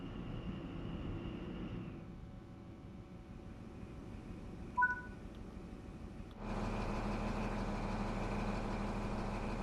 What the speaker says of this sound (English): Press the Start Engine button and give it a moment to start up.